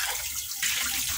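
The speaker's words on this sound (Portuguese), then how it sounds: "Lavar a louça nesse frio." Tap water running steadily into a sink while dishes are washed on a cold day, a continuous close hiss and splash that grows slightly louder partway through, with no talking.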